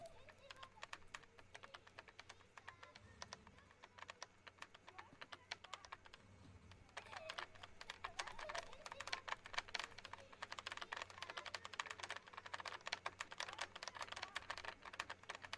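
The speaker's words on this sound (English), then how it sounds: "I'm just gonna spam spacebar." A computer keyboard spacebar is hit over and over in rapid, uneven taps. The sound is quiet and close, with occasional low voice sounds early on, then the taps grow denser and steadier.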